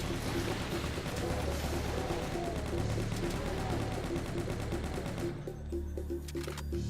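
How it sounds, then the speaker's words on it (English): Minigun firing nonstop in the DOOM video game: a dense, loud, rapid roar of shots that holds steady for several seconds, then thins into scattered, fainter bursts near the end. "just wanna let loose with the minigun a bit."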